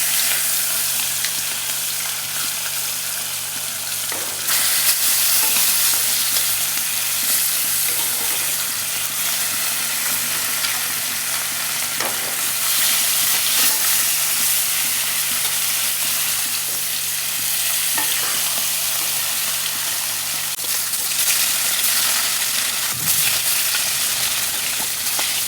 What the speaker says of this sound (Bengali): তেলটা গরম হয়ে গেছে, এখন আমি মাছ দিয়ে দেবো একটা করে।